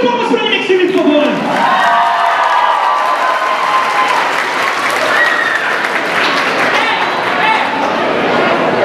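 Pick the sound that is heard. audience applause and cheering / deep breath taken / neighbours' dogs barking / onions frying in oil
audience applause and cheering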